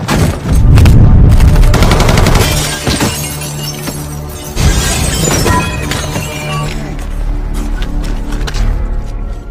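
Loud movie shootout with rapid bursts of gunfire, shattering glass and crashing impacts, dense and chaotic, with no talking.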